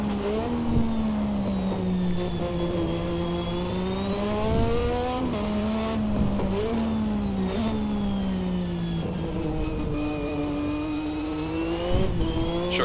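A Lotus 98T turbocharged Formula 1 car, putting out around 700 horsepower at race boost, drones loudly and continuously, its pitch rising under acceleration and briefly dropping at gear changes, including a short shift into third, with no voices.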